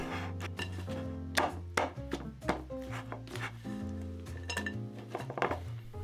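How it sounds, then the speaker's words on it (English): A spoon stirs chocolate and toffee chunks into a thick vegan cookie batter in a bowl, giving a few sharp clinks and knocks over steady background music. "Continue to stir, mixing, incorporating our chocolate chunks and the toffee chunks."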